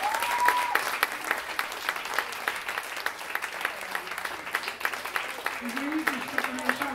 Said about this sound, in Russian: Аплодисменты всем нашим мужчинам.